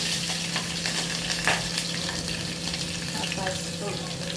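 Cumin seeds, curry leaves and green chillies sizzling in hot oil in a pan, a steady close crackle with occasional louder spits and a brief stirring scrape, no talking.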